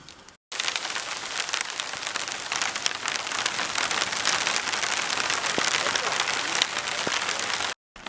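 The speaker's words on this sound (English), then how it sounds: "Well, it's raining again." Steady rain pattering densely on a surface at a lake in the Boundary Waters, a constant close hiss with scattered drips, briefly cutting off at the start and end.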